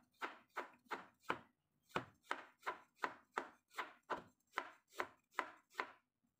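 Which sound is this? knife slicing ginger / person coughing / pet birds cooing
knife slicing ginger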